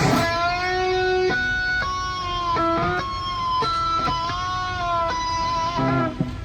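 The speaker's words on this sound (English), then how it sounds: "we're gonna fluctuate our bend as we tap these harmonics" Bright, bell-like harmonics on an Ernie Ball Music Man electric guitar tapped in a steady series, their pitch bending up and down in a wavering, siren-like way, loud and alone.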